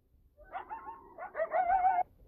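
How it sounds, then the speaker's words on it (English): A coyote gives a short series of yelping howls, rising wavering cries that run together over about two seconds, moderately close and alone with no talk. "Coyote."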